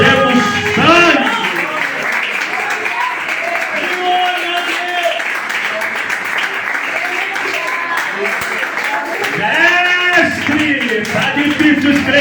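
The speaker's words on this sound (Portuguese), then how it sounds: "aplaude louco, aplaude pelo amor de Deus, aplaude mais forte" Church congregation applauding under a loud preacher's voice and crowd shouting, with bursts of clapping that swell at the start and again near the end.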